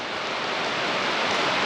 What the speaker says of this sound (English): Rain pretty decent out there.